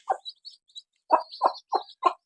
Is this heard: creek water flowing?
no